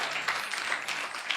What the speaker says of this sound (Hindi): क्यों ना ताली बजाए प्रभु के लिए।